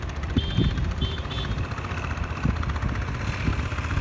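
A modified walking tractor engine revs hard while climbing a hill, giving a chugging, steady drone with repeated pulses outdoors, with no talking.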